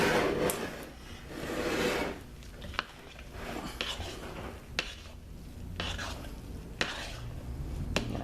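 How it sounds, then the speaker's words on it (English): Hot process sea salt and kelp soap is stirred in a crock pot, with soft scraping swirls and several sharp knocks of a utensil against the pot at intervals of about a second, close and fairly quiet. "Stir up from the bottom, really get it well blended."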